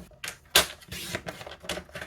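A paper trimmer cuts through a stack of card strips, giving a few quick close clicks and scraping snaps, one sharper than the rest.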